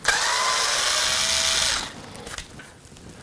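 A power tool whirs loudly for under two seconds while backing out a Torx 20 screw on a Can-Am Spyder's plastic panel, then stops, leaving faint clicks and handling noise.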